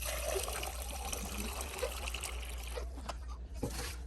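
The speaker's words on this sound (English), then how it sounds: "it's just going to run a cleaning cycle and you will just dispense it out" Water trickling and dribbling out of an Ecoviva slushie machine's dispenser after its self-cleaning cycle, a steady close liquid stream with a few small splashes toward the end.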